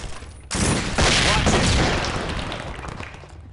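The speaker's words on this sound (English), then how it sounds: "Be advised, the suspects are erratic and shooting each other." Gunfire in the tactical shooter SWAT 4, a loud sustained burst of rapid shots that starts abruptly and fades over a few seconds.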